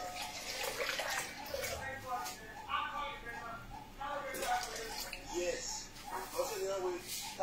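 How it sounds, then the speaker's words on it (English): Cold water pouring into a bowl of bread dough makes a steady, close splashing and trickling hiss, with some kitchen clatter and no talk over it. "And some cold water."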